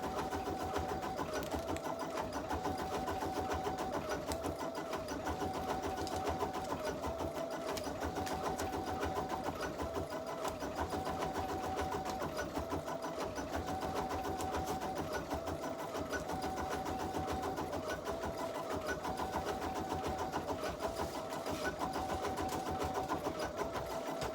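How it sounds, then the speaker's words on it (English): An embroidery machine stitches a quilt design, its steady mechanical whir and fast needle rhythm running continuously and fairly close throughout with no talk. "And our machine is just stitching away."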